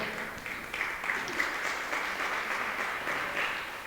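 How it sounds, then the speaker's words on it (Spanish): A church congregation applauding during a Spanish-language service, steady dense clapping from many people that sounds somewhat distant and moderately quiet, lasting throughout. "Denle un fuerte aplauso al Señor en esta hora."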